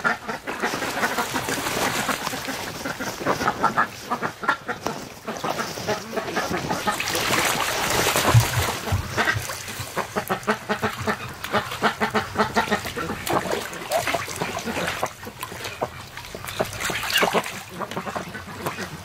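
Rouen and Muscovy ducks share a bathtub in a snowy garden, quacking and honking repeatedly and close by amid splashing and shuffling, with a few brief voices in between.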